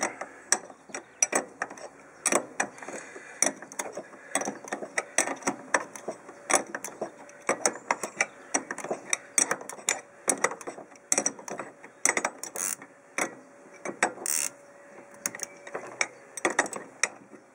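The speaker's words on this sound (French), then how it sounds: "Alors il faut tenir la tête et serrer le boulon pour faire remonter tout ça." Someone tightens a bolt and nut on a Mercedes R129 500SL, producing rapid, irregular bursts of sharp metallic ratcheting clicks that come close and continue throughout.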